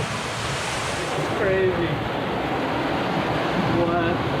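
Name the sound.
water rushing through a river cave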